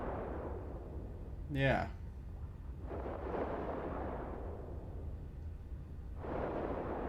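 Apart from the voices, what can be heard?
spaceship guns firing, from video game Eve Online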